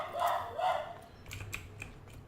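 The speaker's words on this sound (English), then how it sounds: "Alright, those dogs" A dog barks indoors, a few sharp yelps early on followed by fainter scattered barks and small clicks, heard at a modest distance in a quiet room.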